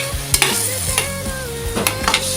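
Chicken breast sautéing in a hot pan with pepper, sizzling continuously close up while a utensil scrapes and clacks against the pan in quick stirring strokes.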